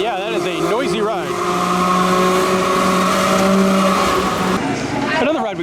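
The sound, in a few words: Falling Star amusement park flat ride running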